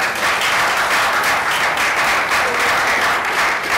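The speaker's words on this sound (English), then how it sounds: "You guys never applaud when I say anything" Audience members at a council meeting applaud in a dense, loud, continuous burst of clapping that holds steady for the whole stretch, with no talking.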